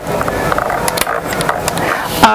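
A small plastic scroll knob on a Qwerkywriter Bluetooth keyboard being turned, giving a quick run of light ratcheting clicks, close by and fairly steady, with a faint higher click near the end.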